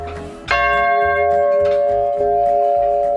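A large, heavy, rusty metal bell struck once by turning its wheel, ringing out loud and close with a long, sustained metallic hum that slowly decays, then a second softer strike near the end.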